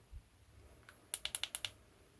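Six quick, crisp clicks from the tail button of a Sofirn SP36 flashlight, evenly spaced and close, after one faint earlier click in a quiet room.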